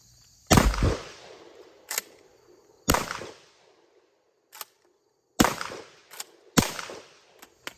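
Horizontal magazine-fed shotgun firing buckshot on an outdoor range, several sharp loud reports at irregular intervals, each followed by a short echoing decay, interspersed with fainter clicks and handling noises.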